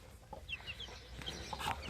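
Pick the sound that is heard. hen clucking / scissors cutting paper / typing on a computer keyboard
hen clucking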